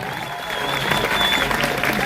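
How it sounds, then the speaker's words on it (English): Outdoor crowd at a drag rally applauding, broad clapping that swells after the first half-second, with faint cheering tones and some background voices mixed in. "Give yourselves a round of applause."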